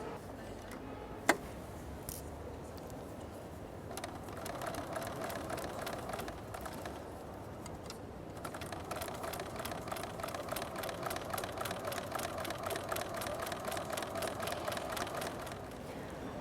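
A sewing machine runs in steady bursts, stitching pairs of art quilt pieces together with a fast, even mechanical rattle that starts, pauses and resumes at close range, with no one talking over it.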